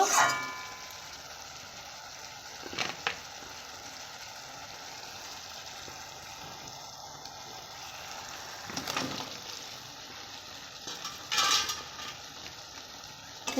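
Potatoes fry and get stirred in spice paste in a pan for fish curry, a faint, steady sizzle broken by a few short scraping bursts from the stirring.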